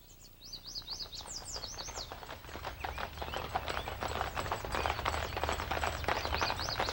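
Hooves of a horse hitch clip-clop on a road on a peaceful early morning, a steady, fairly close rhythmic clatter with birds chirping and tweeting throughout.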